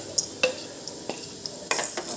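Chana dal and black peppercorns dry-roasting in a pan for puliyodharai, with light sizzling and several sharp scrapes and clinks of a spoon stirring them.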